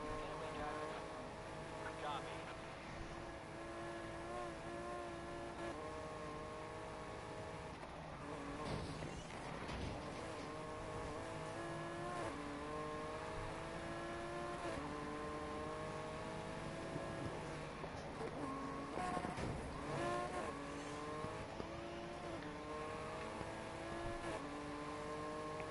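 A fully gripped car in Forza driving hard, its engine note rising and falling through repeated revs and gear changes, with brief tire squeal, and people talking over it throughout.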